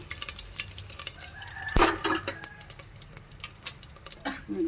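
Mustard seeds, fenugreek and dried red chilies tossed into hot oil, giving light crackling ticks and sizzle with a sharp clatter of utensils near the middle, close and moderately quiet.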